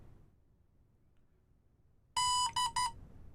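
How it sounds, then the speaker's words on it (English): A DJI Avata360 drone beeps on power-up with three quick, loud electronic tones in a row, the first longest, after a stretch of faint background quiet. "Aircraft beeped."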